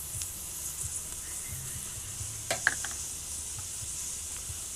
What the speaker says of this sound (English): And plop in that garlic paste. And just stir that around for about a minute and a half.